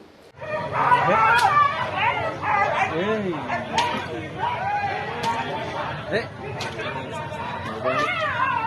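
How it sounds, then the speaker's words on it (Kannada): Street dogs in a village road yelping and whimpering as dog catchers beat them, with repeated high cries and yips over loud, continuous crowd chatter and people talking nearby. "ನಡು ರಸ್ತೆಯಲ್ಲಿ ನಾಯಿಗಳಿಗೆ ಮನಸ್ಸು ಇಚ್ಛೆ ಥಳಿಸಿದ ಡಾಗ್ ಕ್ಯಾಚರ್ಸ್"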